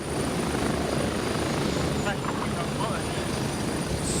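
A helicopter in the Gray Zone Warfare shooter game drones steadily with a constant rotor and engine roar throughout, with no break or fade.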